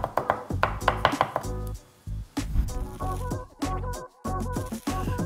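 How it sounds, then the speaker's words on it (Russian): Garlic is chopped with a knife on a board in quick, rhythmic bursts of sharp taps, with a couple of short pauses between runs. "Сразу порежем чеснок."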